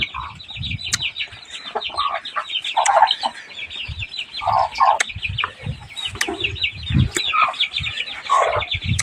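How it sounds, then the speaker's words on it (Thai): Chickens and a rooster cluck and chatter continuously at close range, with overlapping calls, scattered pecking noises and occasional louder squawks throughout. "ไก่กับพ่อไก่"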